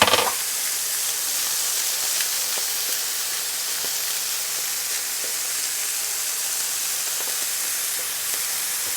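Scallops sear in a hot pan with a constant, bright sizzle and hiss, steady and moderately loud, with small crackles scattered throughout.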